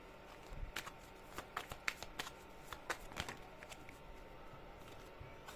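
Tarot cards are shuffled and laid out on a table, giving soft crisp riffles and a run of light flicks and taps that come irregularly and stay close and quiet.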